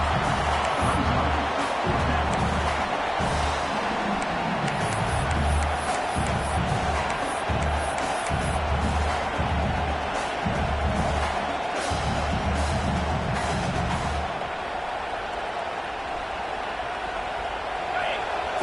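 Video-game stadium crowd in a college football game, Baylor against Auburn, roaring steadily through a fourth-down defensive stand, loud and continuous with surging swells, under a commentator's play-by-play voice.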